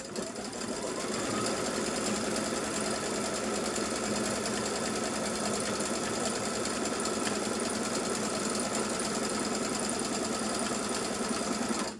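A sewing machine runs steadily, stitching at a fast even pace; its continuous mechanical whir and rapid needle chatter hold for the full stretch with no pauses and no voices.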